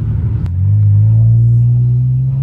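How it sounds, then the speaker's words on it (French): A BMW 335xi with an aftermarket exhaust rumbles in sport mode with the window down. The deep, loud, steady drone swells slightly after a brief click and holds close and alone. "je suis très content d'avoir un vrai échappement sur cette voiture"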